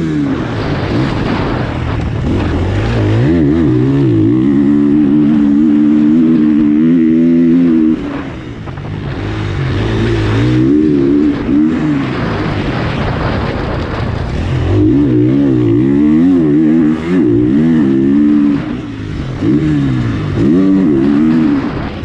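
A KTM 450 dirt bike lapping a race track, its engine revving hard through the gears with rising and falling pitch, easing off briefly before winding up again, loud and close throughout.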